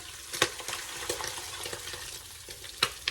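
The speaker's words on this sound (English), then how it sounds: "So now we're going to stir in the water." Food being stirred in a hot frying pan as water is added, soft scraping strokes over a steady sizzle, with a few sharper clinks of the utensil against the pan.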